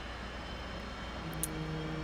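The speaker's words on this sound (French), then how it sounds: "Donc là le moteur démarre" Simulated F/A-18 jet engine spooling up during start-up in DCS World, a steady broadband roar with a rising tonal whine that grows slightly louder toward the end, heard alone.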